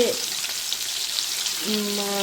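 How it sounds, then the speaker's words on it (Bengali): Fish sizzle in hot oil with a constant, close crackling hiss, and a voice briefly cuts in near the end. "তেলটা বসিয়ে দিয়েছি এই যে মাছগুলোকে ভাজবো"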